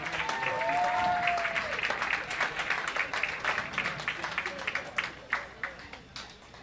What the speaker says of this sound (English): let's give these collegiate teams a big round of applause as they continue their match play competition.